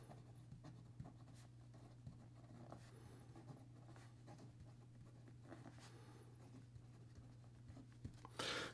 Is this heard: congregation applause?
no